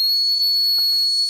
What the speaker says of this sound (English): anybody want a cyber whistle?